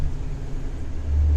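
Renault Kerax 500 truck engine accelerating, a low steady rumble close by that grows slightly heavier toward the end, with no talk.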